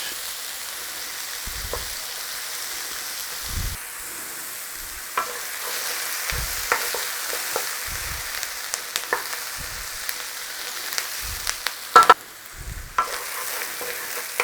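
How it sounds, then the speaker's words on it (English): Onions and sausage fry in a pan with a soft constant sizzle, broken by several short scraping stirs spread unevenly, close up with no talking. "Stir it all through there. In there with your sausage."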